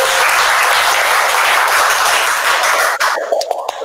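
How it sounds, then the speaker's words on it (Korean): A crowd applauds at a graduation exhibition talk in a dense, steady wash of clapping that thins out near the end into a few scattered claps. "박수로 받아주시고."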